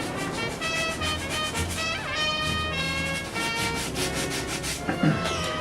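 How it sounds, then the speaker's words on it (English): Wet-or-dry sandpaper rubbed back and forth over a car body panel during a My Favorite Martian car restoration, making a steady, close, continuous scratchy rasp with a faint tonal hum underneath. "This sandpaper, this is a wet or dry sandpaper."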